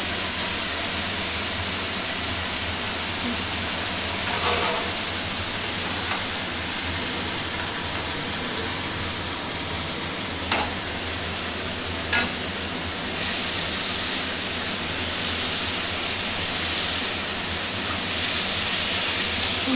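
Chopped tomato sizzles steadily in a hot pan for cauliflower curry, a loud continuous frying hiss with occasional stirring scrapes and no talk.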